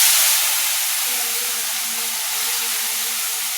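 Crushed ginger, garlic, onion and green chilli hit hot oil in a pan for a kochur loti dish, a loud, steady sizzling hiss that eases slightly after the first moment.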